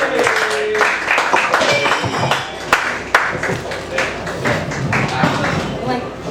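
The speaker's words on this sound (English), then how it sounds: "Can we get a big round of applause for Annie?" An audience at an open mic night applauds a performer named Annie, producing dense, steady clapping with scattered taps and crowd noise throughout.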